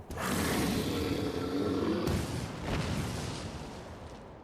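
A cannon fires in Final Fantasy XIV, a loud booming blast that rolls into a second burst around the two-second mark, then a long rumbling decay, no voices.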